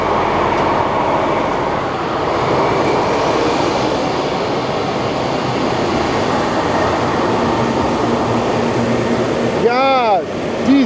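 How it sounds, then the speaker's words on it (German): A DB class 218 diesel locomotive at an InterCity train gives a steady, loud engine rumble with rail noise that runs the whole time. Near the end a short tonal sweep rises above it. "Der wird mit der Baureihe 218 Diesellok gezogen."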